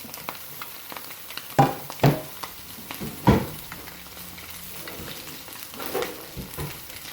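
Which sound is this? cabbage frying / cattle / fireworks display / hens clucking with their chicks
cabbage frying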